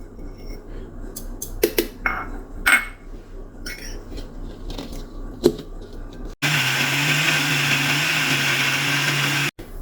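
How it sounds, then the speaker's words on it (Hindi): An electric grinder whirs loudly and steadily for about three seconds, grinding sugar and milk powder for a mango coconut barfi, after a few clinks and knocks of jars and lids being handled. "इसके साथ हम चीनी भी डाल देंगे और ये मिल्क पाउडर, इसे भी डालकर हम ग्राइंड कर लेंगे।"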